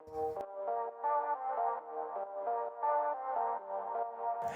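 Bright synth melody in the style of the lead from a pop song, played in a dance-pop production; sustained harmonic notes move in a steady stepwise pattern, clear and alone without voices.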